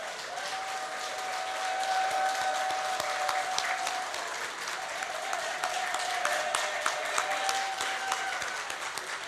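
An audience at a manufacturers' quality awards ceremony in St. Lucia applauds steadily, a dense wash of clapping hands that continues throughout at moderate distance.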